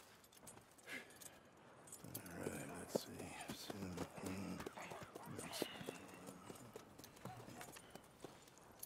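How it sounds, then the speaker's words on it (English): Horse hooves clip-clop at an uneven pace under soft, low voices and faint jangling, the footfalls muted and fairly close. "And a fine new horse."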